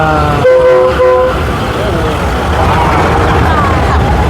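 A tourist train on the World War II railway along the River Kwai in Kanchanaburi rumbles past, its horn sounding a sustained tone early on over steady loud rolling noise, with voices and crowd sounds mixed in.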